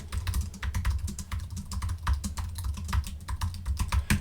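Rapid clicking keystrokes on a computer keyboard, close and continuous, with an uneven rhythm of taps throughout.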